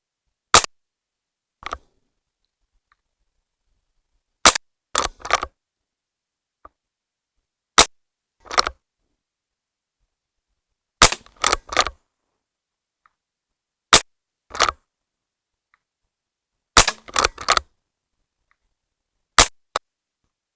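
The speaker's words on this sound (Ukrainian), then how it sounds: "буду відстрілювати в праву верхню мішень" Sharp, isolated shots from a Umarex Walther Lever Action CO2 4.5mm air rifle, each a crisp snap with a short metallic clack after it, repeated at steady intervals with silence in between.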